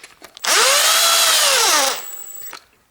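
An electric impact driver snugs oil sump pan bolts on a Toyota Camry 2.4 VVT-i engine, giving one loud, close burst of high whirring that runs for about a second and a half and then winds down.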